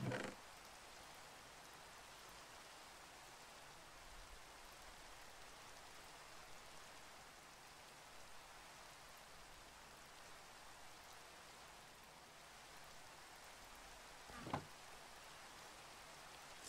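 Soft, continuous rain falls in the video game Minecraft (Sky Factory 3 modpack), a faint, even hiss of drops with a single brief click near the end.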